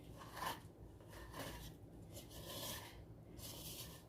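Pizza dough mixture for a Margherita pizza is scraped out of a bowl in a few soft, faint rasping strokes, close by with no talking.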